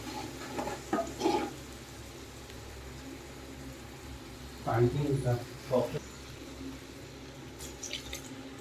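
Meat cooked with chicken masala and garam masala in a clay pot, with a splash of water added. A low, steady sizzle runs throughout, with a few stirring scrapes and clatters, and faint talk in the background.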